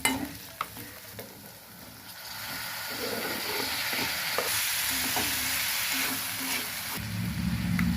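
Tomato drops into onion and potato already frying in a pan, followed by steady stirring and a hissing sizzle. A few sharp clinks come early, and the frying swells louder after the tomato goes in.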